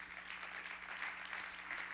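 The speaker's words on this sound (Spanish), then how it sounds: "Denle un aplauso a Jesús." A church congregation applauds for Jesus during a Wednesday service, a steady crackling clap that holds at moderate, distant volume for the whole stretch with faint room hum beneath and no clear voice.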